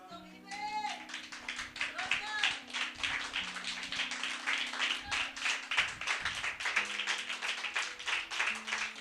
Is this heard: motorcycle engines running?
no